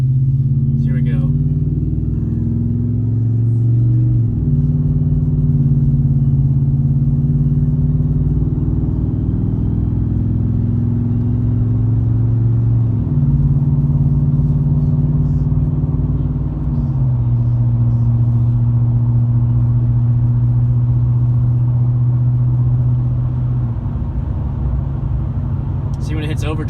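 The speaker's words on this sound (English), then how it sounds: "I'm gonna do a little just driving it with the Roush exhaust and intake, and here we go." A 2014 Ford F-150 with a 5.0 engine and Roush exhaust and intake drones loudly from inside the cab while driving, its engine note climbing and dropping through several gear shifts in a deep, steady rumble.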